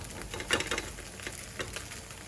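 Eggs fry and are stirred in a pan for fried rice, giving a soft, steady sizzle with a few scraping stirs, quiet and close, with no voices.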